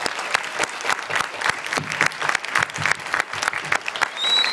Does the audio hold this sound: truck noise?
no